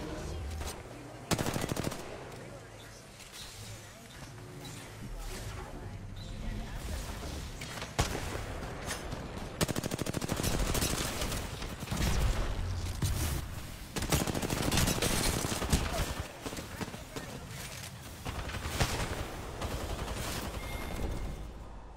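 Dense, sustained gunfire in a video game, with booming Kraber sniper shots among rapid bursts, loud and continuous and mixed with game effects.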